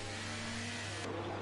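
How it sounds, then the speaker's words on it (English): Race car engine in a racing video game, revving hard during a safety car period, a loud continuous drone with a steady low hum that shifts pitch near the end. "Yeah, he was really revving quite aggressively."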